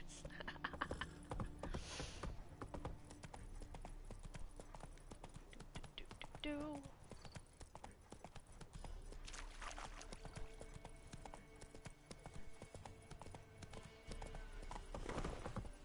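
In The Witcher 3: Wild Hunt, a horse's hooves clip-clop in a steady, fast rhythm under game music and effects, with a brief whinny midway and a voice talking over parts of it.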